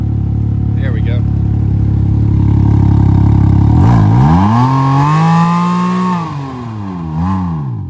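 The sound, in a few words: Can-Am Ryker with modified exhaust revving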